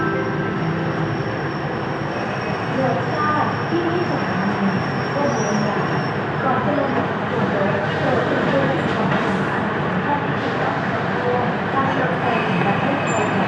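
Diesel railcar pulling into a station platform: a steady, loud rumble of the train with faint squealing wheels throughout, while someone talks nearby.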